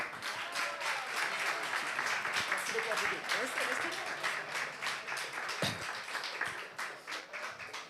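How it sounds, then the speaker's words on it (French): Church congregation applauding pastors at a consecration service, dense sustained clapping from a crowd with a few voices mixed in, fairly distant and even throughout. "On les applaudit encore."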